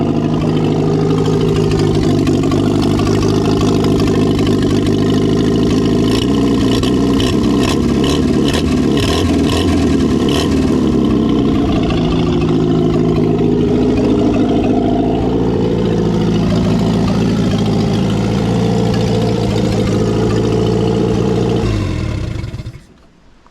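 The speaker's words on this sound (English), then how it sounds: "See if it will idle for a little bit." An old Lansing Bagnall tug, parked outside for many years, running its engine near and loud with a steady low throb, a rough rattling patch partway through, then settling before cutting off abruptly at the end.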